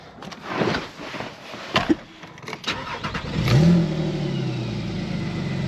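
A Porsche Cayman S (987.2) engine cranks and fires up with a sharp revving surge, then settles into a deep, steady idle rumble, close and loud.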